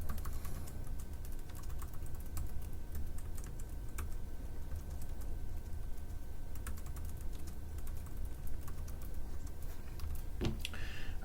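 Rapid, steady typing on a computer keyboard while writing Clojure code, with dense soft key clicks and a few sharper taps, close and continuous with no talk.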